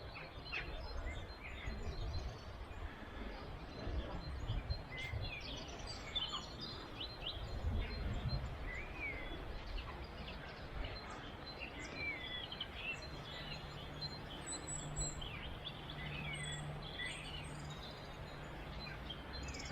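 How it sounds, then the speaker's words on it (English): Scattered small bird chirps and calls of an evening chorus in Wepre Woods, North Wales, faint to moderate, over a low steady rumble of background noise. "Birds are tweeting away, they know it's going to get dark soon."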